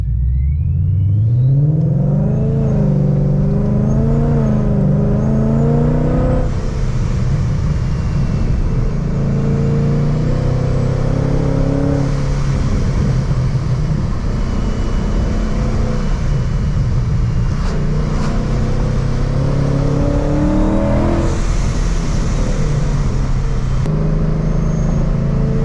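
A 700-horsepower supercharged Ford Mustang on a G2 blower roars loud and close while driving on backroads, its engine revving up and down in repeated climbs and shifts over a constant low rumble.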